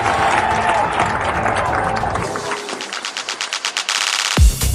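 An audience at a Kerala film critics award night applauds to welcome an actor, a dense wash of clapping that thins into a few rhythmic claps before a loud thump at the end.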